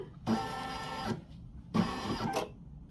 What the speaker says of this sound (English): It will run another stitch all the way around, but it leaves an opening down here so you can flip your bag inside out.